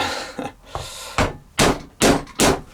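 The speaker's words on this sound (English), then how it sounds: "I've put my stitch holes through, my stitch chisel holes through" A stitching chisel is hammered through leather while making an axe sheath cover, giving four loud, sharp blows spaced about half a second apart after a few quieter taps at the start.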